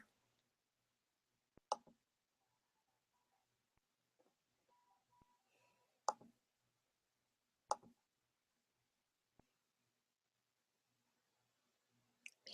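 Scattered sharp computer mouse clicks, about five over several seconds with long quiet gaps between them, sound close but faint in a quiet room.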